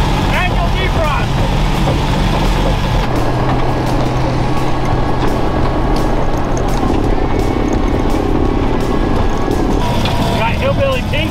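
A snow recovery truck's engine runs with a low, steady rumble close by, while people talk over it and occasional knocks and clicks sound inside the cab.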